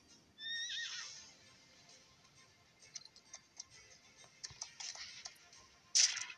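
Horse sounds from the video game Equestriad World Tour during a jump: a clear whinny near the start, then scattered clip-clop hoofbeats and a sharp final thump, all fairly faint with no talking.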